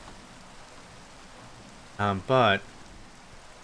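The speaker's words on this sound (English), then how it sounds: "I'm tired of getting rained on" Rain falling in Minecraft, a steady soft hiss of drops throughout, with a brief spoken word cutting in over it partway through.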